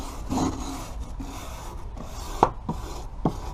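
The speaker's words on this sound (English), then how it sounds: "we're going to be using our wire brush, and we're just going to start scraping all the loose paint off" Wire brush scraping loose, weathered paint off a rotted wood window frame, a steady close rasping rub with a few sharper strokes standing out near the end.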